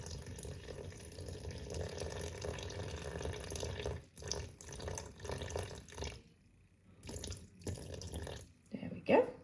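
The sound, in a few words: pouring 300 millilitres of water onto scales for bread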